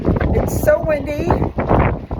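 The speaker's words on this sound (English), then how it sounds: "It's so windy." Strong wind gusts buffet the microphone outdoors during a storm that has downed power lines, a loud broadband roar running under a woman's speech throughout.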